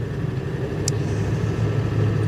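A 2000 Ford F-250 pickup with a 7.3 diesel engine runs steadily, a low continuous rumble with a brief sharp click partway through, no talking.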